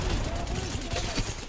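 Dense, rapid gunfire from a competitive online shooter match rattles continuously in a short, loud burst, close and crowded.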